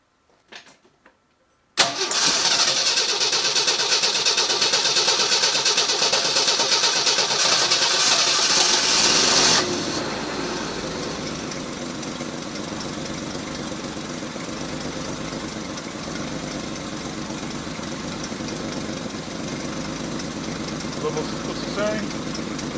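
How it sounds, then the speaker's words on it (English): A 1982 Jeep CJ7 engine cranks and catches with a loud start, revving hard for several seconds before settling into a steady, slightly quieter idle close by, with faint talk in the background. "So I'm going to start the engine up and"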